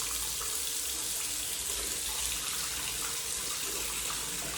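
Hot water from a tap, freshly fed by a gas boiler that has just been lit, running in a steady, even rush throughout, fairly close and alone with no voices.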